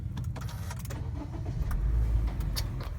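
A car engine is started from inside the vehicle: a few faint clicks and rustles, then the engine cranks and catches with a low rumbling surge before settling into an idle.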